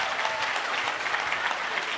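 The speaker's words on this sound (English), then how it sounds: "Give him a big round of applause." An audience applauds at a conference-style event, dense and steady clapping that fills the room for a couple of seconds without a break.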